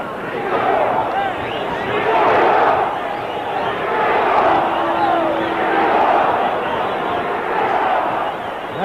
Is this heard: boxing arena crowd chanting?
yes